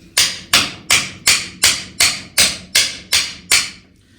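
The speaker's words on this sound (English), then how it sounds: "I'm gonna tap on the vice grip." Ten evenly spaced metallic hammer taps on a vice grip clamped onto a cotter pin, during wheel bearing work on a Case 730 tractor, each strike sharp and close, about two per second.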